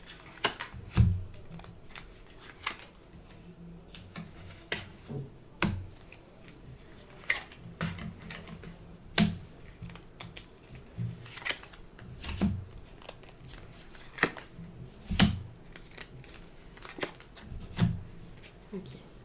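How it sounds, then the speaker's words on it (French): Tarot cards laid out one by one on a table during a weekly French reading, a series of soft slaps and papery flicks at irregular intervals, close, with a quiet voice in the background. "Je vais mettre toutes les cartes et après je vous explique tout ça."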